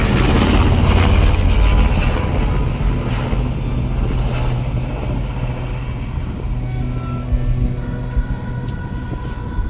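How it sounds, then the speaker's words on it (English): Loud, continuous rotor and engine roar of firefighting helicopters arriving at a wildfire, steady and close, filling the whole stretch without talk. "Okay, so the firefighting helicopters arrived."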